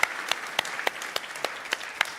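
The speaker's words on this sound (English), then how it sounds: "can we give a round of applause for Ian for fasting this year now?" Audience applause at a panel discussion event: a dense, steady patter of many clapping hands with a few sharper claps standing out, moderately loud and continuous, with no voices over it.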